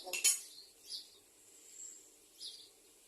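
A metal pot lid clinks down with a brief, bright clatter, followed by faint metallic taps in a quiet kitchen while cooking a vegetable dish with fermented pork.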